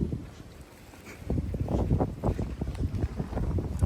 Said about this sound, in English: The water is very choppy.